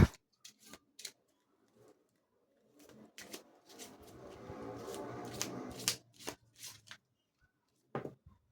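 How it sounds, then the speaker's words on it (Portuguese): A large tarot deck shuffled a little at a time by hand, with soft papery riffling and scattered card taps, close but faint, building to a longer run of shuffling before trailing off into a few light clicks. "Esse aqui, como tem muitas cartas, eu vou embaralhar aos pouquinhos."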